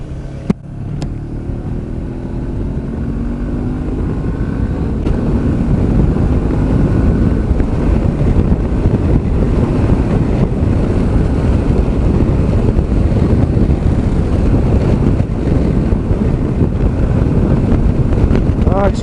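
A Honda CB500X motorcycle at highway speed, its engine drone rising as it accelerates and then blanketed by loud, continuous wind buffeting against the microphone.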